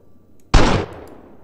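A single loud gunshot from a weak handgun in Grand Theft Auto San Andreas, modded to Vice City, cracks out sharply from near silence and decays over about a quarter second into a faint tail.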